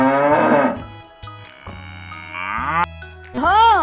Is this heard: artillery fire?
no